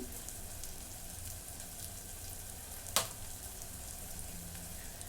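Coriander paste and tomato roasting in a pan for a chickpea and vegetable curry, a faint, steady sizzle with one sharp clank of a utensil against the pan midway; no talking.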